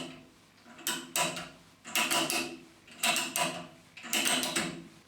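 An open-ended Chicago Brand ratchet spanner works a nut in four quick clusters of close ratcheting clicks, spaced about a second apart.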